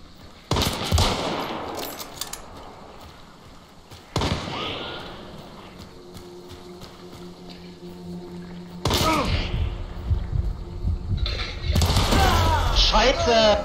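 Rifle shots ring out in Hunt: Showdown, with several sharp, loud cracks whose echoing tails trail off, followed by a burst of rapid fire near the end. A player's voice comes through at moments.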